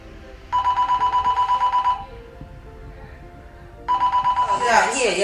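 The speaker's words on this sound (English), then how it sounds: "Yeah, your phone. You got a call." A telephone rings with an electronic trilling bell in two loud bursts, each about a second and a half long with a short gap between, and a voice starts up at the end of the second ring.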